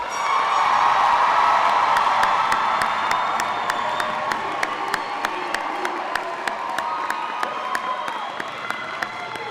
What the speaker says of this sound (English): One more round of applause for our graduates.